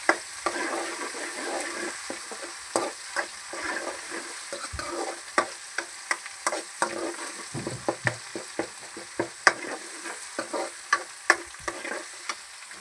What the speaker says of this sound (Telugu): అల్లం వేగుతుంది.